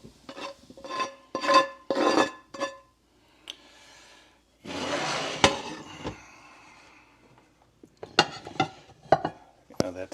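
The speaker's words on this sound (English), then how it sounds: "just cooking the potatoes" Potatoes and vegetables cook in a HexClad pan, with sharp clinks and scrapes of a utensil against the pan, a stretch of soft sizzling and stirring, and more scattered clatter, all close with quiet gaps.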